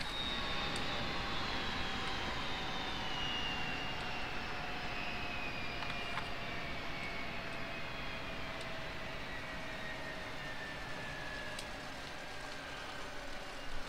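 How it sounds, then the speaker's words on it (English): Airliner jet engines spooling down after shutdown in the X-Plane flight simulator during a night flight, a steady broadband roar with slowly falling whine tones fading gradually over the clip, no talk. "so now we can kill the engines"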